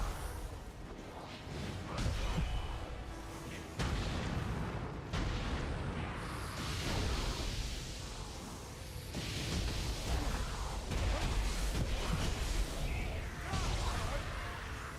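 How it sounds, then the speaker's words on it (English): Vents explode in the action video game Nioh 3. Heavy booming blasts and bursts repeat over the whole stretch among combat noise, loud and dense, with a brief quiet gap partway through. "Keep aware, these vents,"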